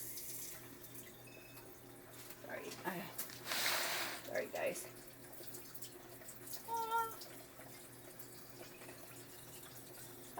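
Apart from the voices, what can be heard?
filling a glass tonic water bottle with tap water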